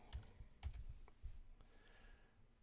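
Quiet keystrokes on a computer keyboard while a component description is entered in 3D design software, a short irregular run of soft clicks.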